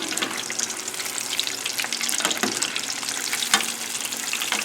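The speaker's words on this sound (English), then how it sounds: "how long it's taking me to cook these scallops" Panko-breaded sea scallops frying in a pan of oil make a dense, continuous hiss and crackle, close and steady throughout with occasional louder pops.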